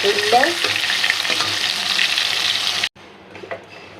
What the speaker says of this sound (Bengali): আজকে মাছগুলো সুন্দর করে আমরা